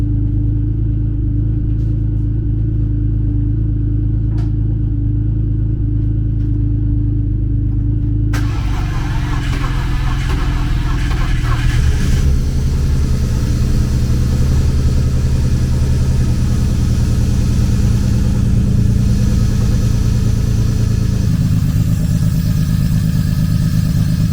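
Close and loud, a BMW E36 convertible engine, connected to a jump box, turns over and catches, then settles into a steady, rumbling idle that runs on.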